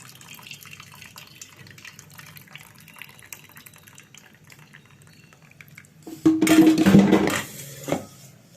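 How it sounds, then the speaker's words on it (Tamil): Excess cooking water poured off pressure-cooked lentils for a spinach dish: a sudden loud splash and stream of liquid near the end, after quieter kitchen sounds. "தண்ணி இருந்தால் கொஞ்சம் அப்படியே சுத்தமாக வடிச்சிடுவோம்"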